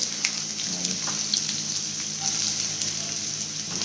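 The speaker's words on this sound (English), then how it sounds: "Saute some onions here." Onions sautéing in hot oil in a pan, a steady close sizzle with faint crackles and occasional light stirring scrapes, no voices.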